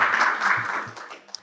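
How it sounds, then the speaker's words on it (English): Applause from the audience at an international trade panel session greeting the panelists, a short burst of clapping that fades out within about a second and a half. "a big round of applause for our panelists"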